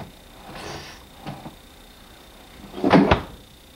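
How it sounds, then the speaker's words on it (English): Closet door in a small office opened, giving a couple of soft creaks and knocks followed by a louder clunk of the door swinging and catching, close and without talk. "I opened the door all the way, but it was the wrong door. It was just a closet."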